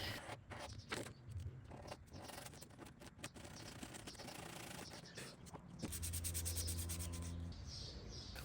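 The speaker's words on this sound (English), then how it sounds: "Just going to wrap some sandpaper around it. I'm going to gently sand it." Sandpaper wrapped around a block rubs gently back and forth over wood trim on a vintage buffet, a steady close scratchy sanding that grows a little louder and more continuous toward the end.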